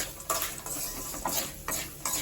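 Chilli powder stirred with a spoon into a hot fried lentil tempering in a pan, brisk repeated scraping strokes over a soft sizzle, close and alone.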